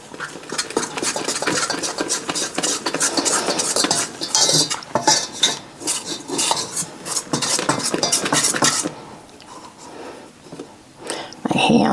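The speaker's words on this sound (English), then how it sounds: "I'm going to take this and just stir it in" Spoon scraping and clinking in a pot of keto Italian meat sauce, steady busy stirring with utensil clatter, loud and close, with a brief pause near the end before the scraping returns.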